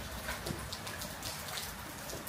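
Rain falls on a cool, rainy morning in Australia, a steady soft patter of drops on surfaces, close and even throughout with no voices.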